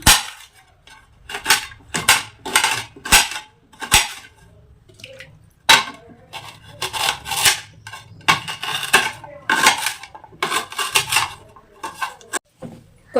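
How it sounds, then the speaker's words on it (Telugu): A knife chops fresh ginger into small pieces on a cutting surface, irregular sharp knocks coming in quick bursts and single strikes, close and fairly loud, with quiet gaps between and no speech. "చిన్న చిన్న ముక్కల్లాగా అయితే కట్ చేసుకుంటున్నాను"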